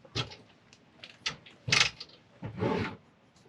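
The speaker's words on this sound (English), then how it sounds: "So this is supposed to be a sliding wardrobe." A sliding wardrobe door inside a truck camper is worked back and forth, giving several short wooden rubbing and scraping strokes with knocks, close and moderately loud, with no talking.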